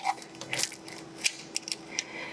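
A ratchet tightening valve cover bolts on a 100 Series Toyota Land Cruiser, giving short, close bursts of quick metallic clicks with small pauses between strokes.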